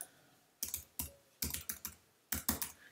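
Keys clack on a computer keyboard as a passphrase is typed, with irregular bursts of sharp close taps separated by short pauses, under a faint steady hum and no talk.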